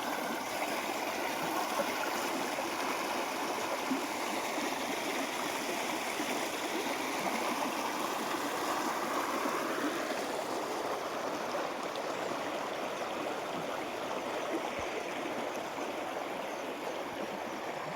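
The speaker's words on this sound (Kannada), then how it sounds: "ಈ ರೀತಿ ನೀರು ಹರಿದು ಹೊಂಟೈತಿ" Steady rushing of flowing water in the Krishna River at low level, constant and fairly close, with no voices over it.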